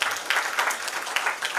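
An audience at a youth summit applauding, a short, steady wash of clapping at moderate loudness with no pause.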